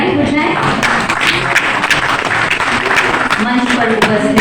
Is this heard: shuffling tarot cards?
no